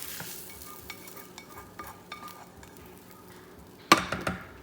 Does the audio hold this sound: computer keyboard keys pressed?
no